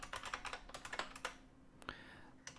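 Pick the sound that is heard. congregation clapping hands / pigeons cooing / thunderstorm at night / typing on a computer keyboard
typing on a computer keyboard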